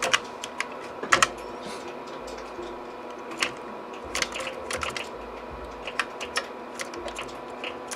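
Rapid, light key clicks from a Compaq Portable computer keyboard tap away steadily over a quiet background hum, with a few louder clacks standing out.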